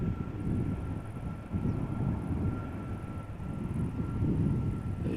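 A Boeing 747 turning off the runway at Amsterdam Schiphol after landing, its flaps and spoilers still extended: a steady, fairly loud jet engine rumble with a low broadband roar and a faint thin whine, continuous throughout with some wind buffeting.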